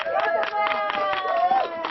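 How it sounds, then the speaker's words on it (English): A crowd of friends and colleagues cheering and clapping outdoors on the slope of Mauna Loa as researchers emerge from a dome. Scattered claps rise under a voice talking over them. "To a cheering crowd of friends and colleagues waiting for them"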